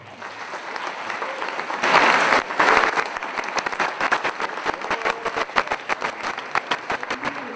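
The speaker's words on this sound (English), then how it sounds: "Let's give the parents a round of applause." Applause from the audience at an inter-house singing competition, a dense wash of clapping that swells early, then breaks into more distinct, scattered claps, with faint voices underneath.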